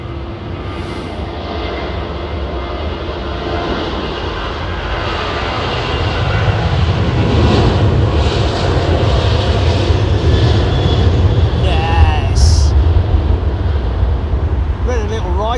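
A Boeing 737 with CFM56 jet engines roars past at an airport, a broad rumble that builds and grows louder toward the end, with brief wind buffets and faint voices in the background.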